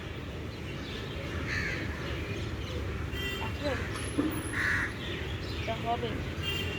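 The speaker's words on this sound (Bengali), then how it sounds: "একটা ডাল বাদ নেই যেখানে পাখি আছে" Crows and other birds call from the branches of a crowded tree at evening, their caws repeating at middle distance over a steady outdoor background, with a person talking throughout.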